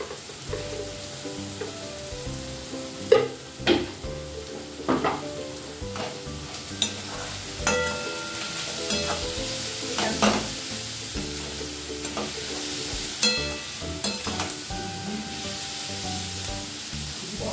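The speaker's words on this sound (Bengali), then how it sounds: "দেখুন পেঁয়াজটা ভাজা ভাজা হয়ে এসেছে" Onions fry in a pan for a Bengali chicken and potato curry, with a steady sizzle throughout and repeated scraping, clattering stirs of a spoon against the metal, close and fairly loud, with no talking.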